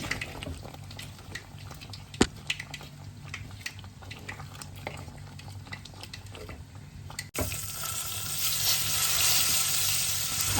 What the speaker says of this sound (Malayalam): ഇപ്പോഴാണ് ഞാൻ കടു വറുക്കുന്നത്